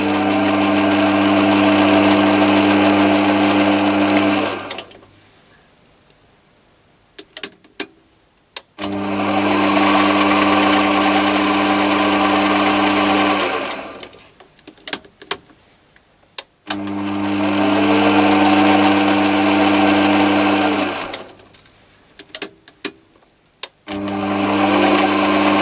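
A Chinese mini lathe motor, fitted with a potentiometer speed controller, whines steadily in three long runs, each about five seconds, with short quiet gaps and clicks of the switch between them.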